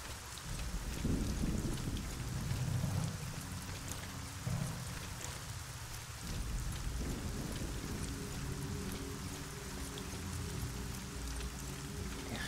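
Steady heavy rain with low rolling thunder fills the stormy plains of the video game Arcania, a dense continuous downpour with deep rumbles swelling and fading.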